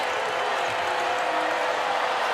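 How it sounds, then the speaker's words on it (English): A basketball arena crowd at an NCAA women's tournament first-round game between Gonzaga and UC Irvine roars and cheers in a steady, dense wash with no pauses. "Crowd is up and roaring."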